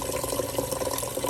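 Water runs into a pot, a steady close splashing rush that keeps going for the whole short stretch.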